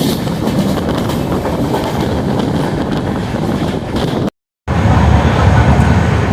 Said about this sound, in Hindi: इस समय हमारी ट्रेन फुल स्पीड में महाजन स्टेशन को स्किप कर रही है